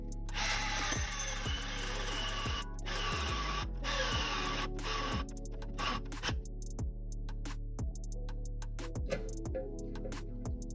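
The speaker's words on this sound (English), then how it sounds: "Okay, so I drilled" A power drill boring a hole for a rear tow hook on a Ford Fiesta ST, heard as a loud continuous whir in repeated bursts, with brief pauses and rattling ticks between them.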